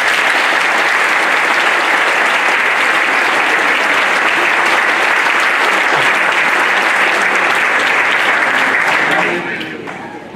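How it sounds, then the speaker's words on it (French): Loud, dense audience applause for volunteers at a public speech on 14 August, sustained steadily for about nine seconds before tapering off. "je vous demande de leur faire un tonnerre d'applaudissements"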